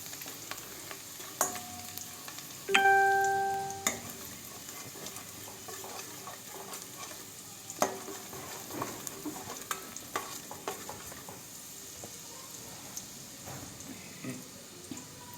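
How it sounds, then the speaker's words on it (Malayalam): Garlic sizzles in a pan for dragon chicken noodles, a low, steady frying hiss lasting about fifteen seconds, dotted with spatula clicks and scrapes and one ringing metallic clang early on, close by and free of speech. "വെളുത്തുള്ളി ഒന്ന് ഫ്രൈ ആയി വന്നിട്ടുണ്ട്."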